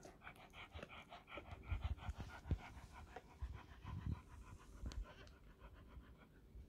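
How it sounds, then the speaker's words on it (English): A female dog in labour whelping pups pants in quick, rhythmic breaths, close and soft, with faint rustling between bursts. "You see her panting, that's when she's kind of working."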